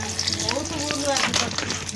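Onions fry in a pan with bay leaves for an Odia mutton kosha, giving off a close, steady sizzle and crackle with faint stirring.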